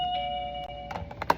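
A small classroom doorbell chime used to signal time to switch groups, a clear sustained ringing tone followed by a few light taps and clicks, close and moderately loud.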